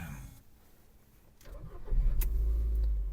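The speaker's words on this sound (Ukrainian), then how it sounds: "Двигун запускається чудово, мультимедіа працює, оберти не плавають." A Ford Fusion 1.4 engine cranks and catches, settling into a loud, steady idle close by after a quieter stretch of background noise.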